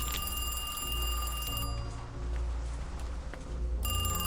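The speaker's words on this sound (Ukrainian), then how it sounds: "Хтось дзвонить нам на телефон." In the horror game Kiosk Horror, a telephone rings in two bursts of shrill, buzzing electronic tone separated by a short pause, loud over a low steady hum.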